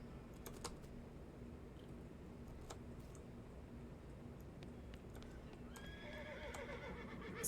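In the video game West of Loathing, a horse whinnies and clip-clops faintly under a steady backdrop of computer keyboard clicks and sharp ticks, with a brief rising neigh near the end.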